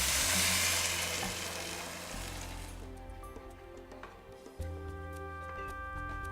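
Spices and vegetables being stirred in a soup pot for butternut and spinach soup: a loud hissing sizzle at first that settles into a softer simmer, with a few faint scrapes and a clunk of the spoon against the pot.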